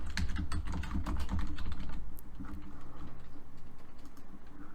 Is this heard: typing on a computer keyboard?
yes